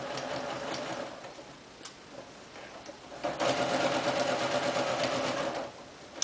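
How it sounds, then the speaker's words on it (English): A domestic sewing machine runs a sleeve's underarm seam at a 5/8-inch allowance, its rapid needle chatter close and steady, pausing briefly before surging louder and faster for the final stretch. "I'm going to go ahead and stitch this underarm, forearm inside area at 5/8 of an inch seam allowance"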